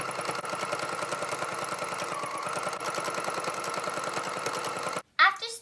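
A sewing machine stitches a straight line along a folded fabric edge for a children's face mask, a rapid, even needle rhythm running close and steady for about five seconds before stopping, followed by a brief voice.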